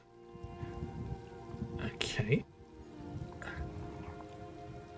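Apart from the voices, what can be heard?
rain falling in the video game Elder Scrolls Online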